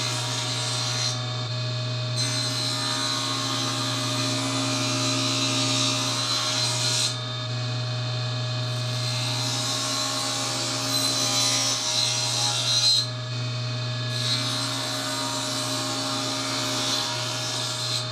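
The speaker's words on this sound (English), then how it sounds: "That's the bevel cut on the panel." Table saw making bevel cuts on a wooden cabinet door panel, a steady loud whine with the blade biting through the wood on three passes, ending grain first then long grain, with no talking.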